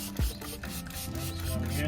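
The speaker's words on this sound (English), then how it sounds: "we're going to use a 2500 paper to sand this down now" Hand sanding of rusty bodywork on a Mercedes ML55 AMG with fine 2500 grit paper, a short close rasping stroke followed by steady soft scraping.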